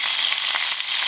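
A steak sizzles and fries steadily over a campground cooking fire, a dense, continuous crackling hiss that stays loud and close without pause.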